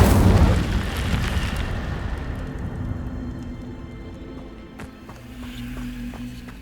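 Incendio fire spell cast in Hogwarts Legacy on PS5: a loud whooshing, booming burst of flame at the start that fades into a softer crackling tail with faint ambient game sound.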